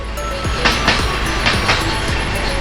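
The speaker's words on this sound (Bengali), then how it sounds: "এই হচ্ছে ফারাক্কা ব্রিজ, আর এই হচ্ছে মেল ট্রেন যাচ্ছে" A mail train rolls past near Farakka Bridge, with a steady rumble and a run of rhythmic wheel clacks repeating every half second or so, heard from close by without any talk.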